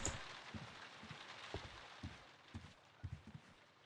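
Rain falls steadily across a scene in a Sherlock Holmes adventure game, a soft continuous patter joined by a series of low, muffled thuds spaced about half a second apart, like footsteps or drops landing.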